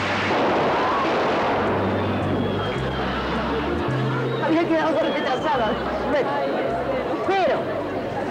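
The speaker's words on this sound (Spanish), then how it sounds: "¡Arriba, chicas, todas estas tracas y petardos!" Strings of firecrackers and bangers go off on a 1985 Spanish television game show with a pirate theme, a dense continuous crackle with scattered sharper pops, under crowd chatter and low music.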